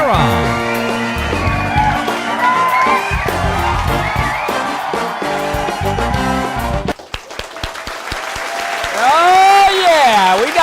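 A packed studio audience at a local talk show applauds and cheers in a dense, sustained wave of clapping that rises after a stretch of choral music, with a host's voice running over the noise.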